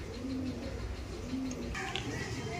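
Pigeons coo softly in a pigeon loft, a few low rolling calls repeating at moderate distance over a steady background hum.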